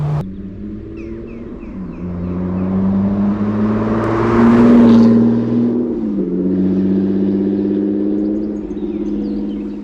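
A 2001 Ferrari 360 Spider's engine accelerates hard. Its loud, continuous drone climbs and swells for about ten seconds with no voices.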